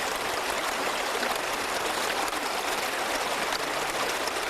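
Water steadily washing over rocks in a gold pan and sluice box on the Susan River, a continuous close rushing and trickling with no talk.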